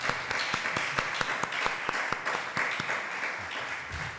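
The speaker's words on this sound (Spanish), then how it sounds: "Pido un aplauso, por favor." Audience applause at a live podcast event: a steady wash of many hands clapping, with sharper individual claps popping out at a fairly regular pace, then thinning slightly toward the end.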